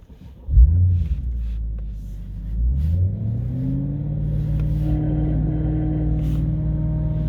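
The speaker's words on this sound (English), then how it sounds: "The sound that you heard was a pump." A pump runs in a 2008 BMW with an S63 engine and 64,000 km during a check-up: a sharp thump, then a steady close droning hum with a tone that climbs and settles, and no talking.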